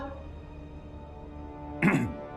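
One short cough erupts near the end of a quiet indoor scene in a Pakistani drama, set over a low steady background hum.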